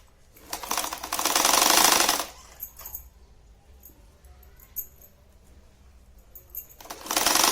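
A sewing machine stitches a chain onto a five-pocket purse in short bursts, a close rattling run of stitches, then quiet handling and small clicks before the motor starts again.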